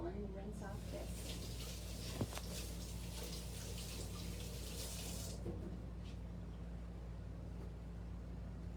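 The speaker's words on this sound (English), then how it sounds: "So let me rinse off this." A cookie scoop rinsed under a running kitchen tap, a steady broadband splash of water for about five seconds that then eases off, with a low hum and a faint clink beneath.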